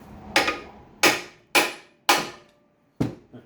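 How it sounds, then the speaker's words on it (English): Five sharp metal hammer blows ring out on the coupler of an Ingersoll/Doosan 185cfm air compressor, coming in an uneven rhythm with a longer pause before the last strike, each close and loud with a quick decay. "Hammer."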